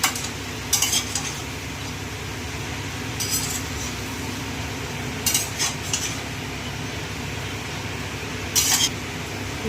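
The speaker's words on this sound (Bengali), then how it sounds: "নাড়াচাড়া করে আমি ঢাকাটা দিয়ে দিচ্ছি" A wok of spinach and prawn curry sizzles steadily while a metal spoon stirs it, with four short bursts of scraping clatter against the pan and no talk.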